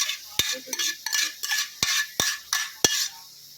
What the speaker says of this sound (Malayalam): ബീഫ് മൊത്തം ചേർത്ത് കൊടുക്കുവാണ്